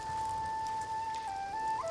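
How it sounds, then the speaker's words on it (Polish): Rain in the video game Ghost of Tsushima, a steady soft hiss of falling rain with a sustained whistling tone over it, moderately quiet and unbroken, with no speech. "Cały czas pada albo cały czas jest mgliście."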